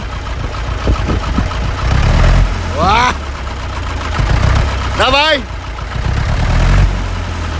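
An Ursus C-360 tractor engine rumbles close by and revs up in rising surges, while people shout over it.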